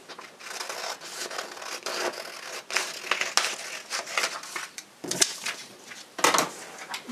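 Scissors cutting a printed paper fabric pattern along the line, a faint run of crisp snips and papery crinkles with irregular pauses, close and quiet, no voices.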